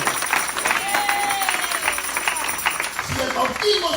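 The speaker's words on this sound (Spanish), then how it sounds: "Fuerte ese aplauso al Señor." A church congregation applauds for the Lord, with dense, lively clapping from a crowd and a loud voice ringing over the top.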